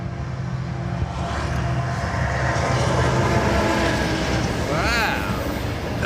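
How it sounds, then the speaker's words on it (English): Amtrak diesel train passing southbound on the Northeast Corridor, a loud continuous rumble and rush of the passing train, with a horn-like tonal sweep near the end and a person talking over it. "Amtrak diesel for you, Nancy."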